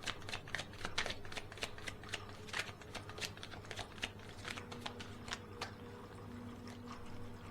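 Tarot cards being shuffled by hand, a rapid run of crisp riffling flicks and soft slaps repeating for several seconds, close and fairly quiet over a faint low hum.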